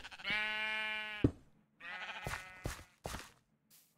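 Sheep in Minecraft bleat twice, each a drawn-out, wavering baa, with a few sharp clicks and shuffling game sounds in between, fairly close and clear with no talking.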